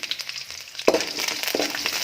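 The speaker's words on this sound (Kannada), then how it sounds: "ಒಗ್ಗರಣೆ ಆದ ನಂತರ ಚೆನ್ನಾಗಿ ಒಗ್ಗರಣೆ ಆಗಬೇಕು" Spices tempering in hot oil for a Kannada-style sweet dish, giving a steady close sizzle and frying crackle with a sharper burst as more goes into the pan.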